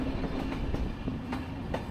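An aging 40-year-old Bulgarian express train rolling over worn tracks in former stabling yards near Sofia, a steady loud rumble punctuated by irregular rail clacks and joint knocks.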